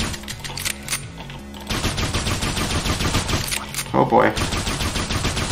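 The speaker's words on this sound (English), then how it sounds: "It's basically just another pistol" Pistol fire in the top-down shooter game Hotline Zombies rattles out in rapid repeated bursts, loud and continuous, while a voice speaks briefly over the shooting.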